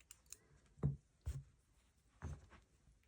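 Three quiet, sharp scissor snips cut yarn tails for a sewn amigurumi eye, spaced about half a second apart and heard alone in a quiet room.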